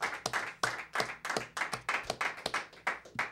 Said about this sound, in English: I'd also like to give a big round of applause and a thank you to our friend Doug Hubbard.